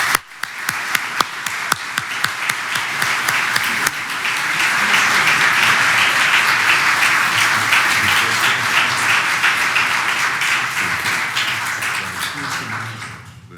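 An audience at a chair installation ceremony applauds to welcome Jack and Sally Danforth, with a few scattered claps at first, then sustained full applause that fades toward the end.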